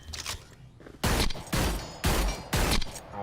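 Four sharp, booming gunshots from a fused weapon in the Hyper Scape video game, fired in quick succession about half a second apart, loud and close with short decaying tails.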